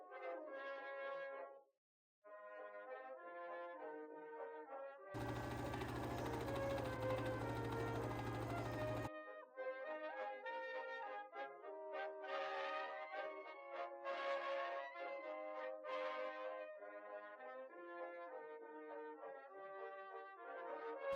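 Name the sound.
sewing machine sewing skirt pocket pieces into side seams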